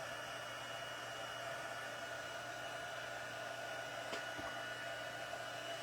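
A heat embossing tool blows hot air with a steady, even whirring hiss, like a small hair dryer, running continuously at a fairly low level with a brief faint knock partway through.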